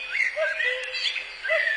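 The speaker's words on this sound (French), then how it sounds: "C'est le coucou." A common cuckoo calls in the open, a brief bird call that repeats, clear but at moderate distance with no talk over it.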